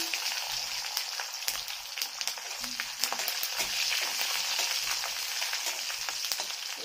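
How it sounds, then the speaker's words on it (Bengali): Garlic frying in a pan with mustard seeds and black cumin, a busy continuous sizzle with sharp pops and crackles scattered through, close and steady. "রসুনগুলোকে ভালো করে ভেজে নেব"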